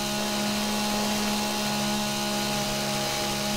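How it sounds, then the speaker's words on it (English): A chainsaw drones steadily in the video game 7 Days to Die, a loud, constant buzzing engine tone that does not vary, with no talking over it. "Turn your chainsaw off, dude."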